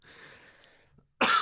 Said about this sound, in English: It's just coughing over everyone.